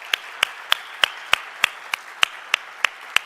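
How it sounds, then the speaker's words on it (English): Sparse, evenly spaced hand claps, about ten sharp claps at a steady beat, from an audience welcoming a new board chair at a supportive housing conference. "Please join me in another round of applause for Brenda."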